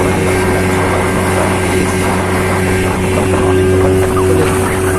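A speedboat cruises across open water, its engine holding a steady, loud drone with wind buffeting the microphone throughout.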